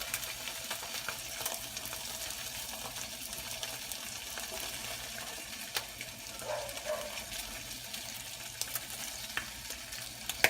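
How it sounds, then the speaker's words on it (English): Bacon frying in a pan while an omelette is made, a steady soft sizzle and crackle with faint scraping of a utensil, close and continuous with no talking. "The good thing about the bacon omelet is you can smell your bacon as you cook."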